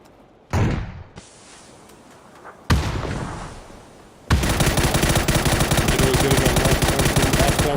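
Gunfire in the PC game PUBG: a single sharp shot, then another burst, then sustained rapid automatic fire that continues loud and dense to the end.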